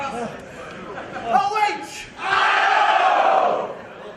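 An Ohio crowd at an independent wrestling match between Matt Cross and Tony Nese shouts and chatters, then swells into a loud sustained roar of cheering for about a second and a half before fading.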